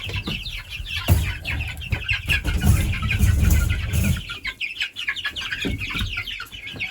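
Spring chickens, including an Australorp, cluck and squawk continuously while being moved into a new coop, with close-up rustling and a few louder bursts of flapping.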